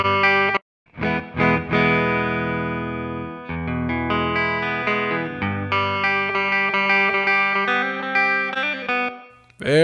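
Electric guitar played through a dry Fender Twin Reverb amp setting with a Relab LX480 room reverb algorithm, sustained chords and melodic notes ringing out continuously with a roomy tail, alone and fairly loud after a brief pause.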